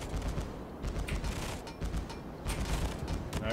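Anti-air guns blaze continuously aboard the battleship New Mexico in World of Warships: a dense, rapid crackle of overlapping shots with sharper bursts rising in waves throughout.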